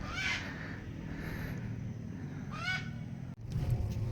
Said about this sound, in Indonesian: kita lihat ada burung di sini.